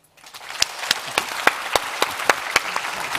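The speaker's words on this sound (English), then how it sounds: "And a round of applause, please." Applause from the audience after a plenary panel at the CYBERUK 2022 cyber security conference builds quickly, with distinct individual claps ringing out over a softer wash of clapping from the crowd.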